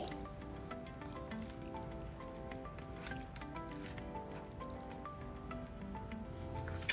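Raw chicken being mixed by hand with a tablespoon of ginger garlic paste, soft close squishing and wet squelching in a continuous low-level rhythm, with no talking.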